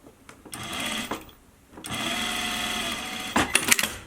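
A sewing machine stitches a half-inch seam on a fabric face mask in close, loud mechanical bursts: a short run, a pause, then a longer steady run ending in a few clicks.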